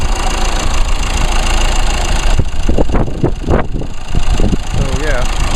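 A 2 liter 4-cylinder turbo diesel in a 2016 Chevrolet Colorado idles with a steady, close, knocking rumble that runs throughout, while a person talks over the engine.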